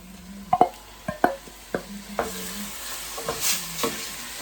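King prawns sizzling in garlic and butter in a pot, a soft continuous fry punctuated by several sharp clinks and scrapes of stirring, close and fairly quiet.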